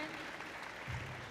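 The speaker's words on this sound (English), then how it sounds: "let's give all of these incredible athletes a round of applause" Round of applause from an audience at a high school athletics event, a steady wash of clapping at moderate level throughout, with a faint voice mixed in.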